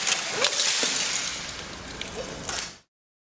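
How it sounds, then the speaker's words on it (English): A glass bowl shattering, a bright, noisy crash with scattered high clinks of breaking glass that fades out over about three seconds and then cuts to silence. "It's time to shatter the glass bowl"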